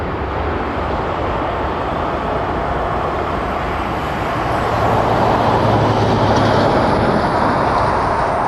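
A taxiing aircraft at Toronto Pearson Airport produces a steady, loud broadband jet roar that swells slightly partway through and continues unbroken.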